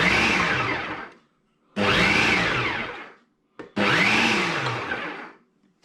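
Ninja food processor chopping mushrooms in three loud whirring bursts of about a second and a half each, the motor winding up and down between short silent pauses.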